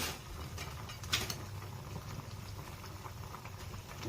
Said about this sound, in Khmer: សម្លយើងពុះហើយ